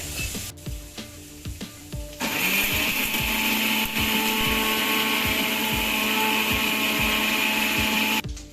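A kitchen mixer grinder whirs loud and steady, pulverising roasted coconut paste with a splash of water for a crab curry, its motor running continuously for several seconds before cutting out.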